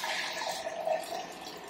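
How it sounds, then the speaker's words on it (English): Eight cups of water poured into a fairly big pot of drained beans, a soft steady splashing stream lasting throughout, faint and close, with no talking. "So now I'm going to add 8 cups of water to the pot."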